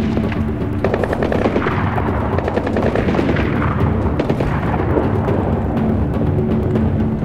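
Sustained rapid gunfire from the video game Splinter Cell Blacklist in a Benghazi safehouse, loud bursts of automatic weapons with sharp repeated shots and booms running continuously throughout.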